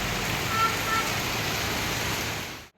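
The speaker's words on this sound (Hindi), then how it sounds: "बहुत बारिश शुरू हो गई है जेन्युइनली इधर" Heavy monsoon rain falling at night, a dense steady hiss of downpour filling the whole stretch, loud and close, fading out abruptly at the end.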